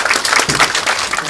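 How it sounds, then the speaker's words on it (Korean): Brief burst of clapping from a crowd packed into a campaign office at an opening ceremony, a dense patter of hands lasting just over a second. "박수."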